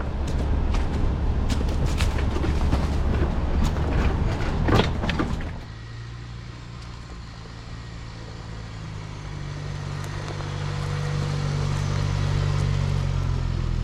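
A vehicle pushes through a narrow green forest tunnel in Washington, first with loud rustling and brush scraping against the body, then a steadier low engine rumble as the drive continues.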